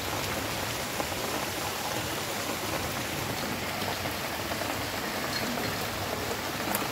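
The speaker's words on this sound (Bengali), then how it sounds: "দেখো মেঘলা মেঘলা ওয়েদার, দেখেছো বৃষ্টি পড়ছে।" Steady rain falls outside on an overcast, cloudy day, a continuous dense hiss of drops on surfaces, even and unbroken throughout with no voices.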